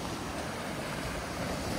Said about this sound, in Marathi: हा समुद्राच्या लाटा बघा कशा दगडांवरती आदळत आहेत